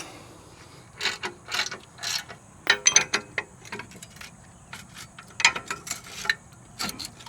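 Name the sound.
socket on an extension used as a cheater pipe on brake bolt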